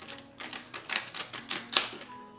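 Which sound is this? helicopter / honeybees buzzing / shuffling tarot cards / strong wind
shuffling tarot cards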